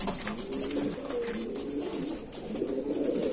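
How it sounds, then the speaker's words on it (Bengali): A male pigeon's deep cooing rolls on and off among many murmuring loft birds, steady and fairly close, with no talking. "এটা নর পায়রা"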